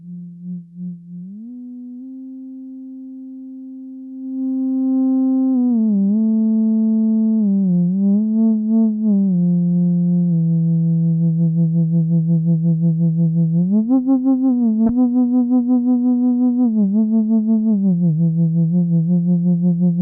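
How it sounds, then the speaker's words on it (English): Moog Grandmother analog synthesizer playing a theremin-like lead with heavy glide, a single sustained tone swooping smoothly between pitches with vibrato-like wavering, loud and alone over about twenty seconds. "to go after a bit of a theremin-like sound"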